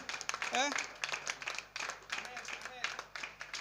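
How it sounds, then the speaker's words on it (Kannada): A church congregation at a Bengaluru gathering claps hands in praise, rapid uneven applause mixed with voices and shouts throughout. "ಚಪ್ಪಾಳೆ ಹೊಡೆದು ದೇವರಿಗೆ ಸ್ತೋತ್ರ ಮಾಡೋಣ"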